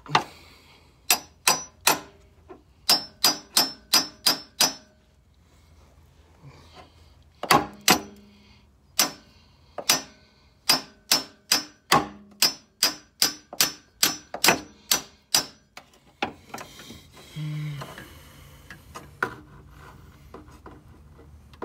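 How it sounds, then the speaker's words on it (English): Series of sharp metallic hammer taps on a freeze-out plug in a 2005 Dodge Grand Caravan engine, in quick bursts, repeated many times with short pauses between groups, fairly close and loud. "now I'm going to take my hammer"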